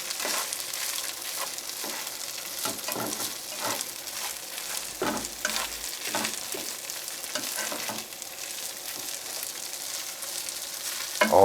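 Rice sautés in oil in a skillet over high heat, a steady sizzle broken by repeated scrapes and stirs of a utensil against the pan.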